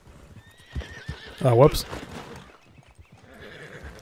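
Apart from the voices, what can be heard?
horse neighing in a video game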